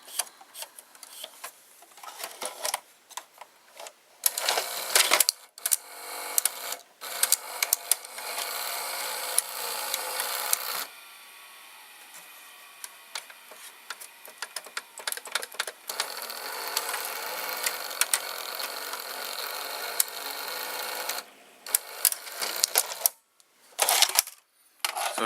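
Tape mechanism of a broken Mitsubishi HS-U20 VCR running, with dense mechanical clicking, ticking and whirring that starts, stops and resumes over a long stretch, close and moderately loud.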